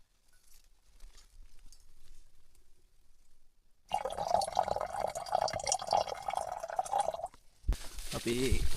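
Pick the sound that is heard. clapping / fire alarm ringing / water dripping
water dripping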